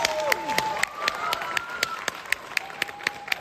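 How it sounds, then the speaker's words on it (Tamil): Audience applause at a Tamil pattimandram debate: a run of sharp, irregular claps, fairly close and moderately loud, with a sustained tone running underneath. "அதான் கரகோஷம் பொங்குது"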